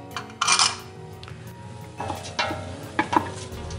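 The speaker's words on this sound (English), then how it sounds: "I'm just gonna mix that in." Thyme, bay leaves and rosemary are stirred into a root vegetable soup base in a pot: scraping strokes with a few sharp bursts of utensil clinks against the pot, heard close and alone.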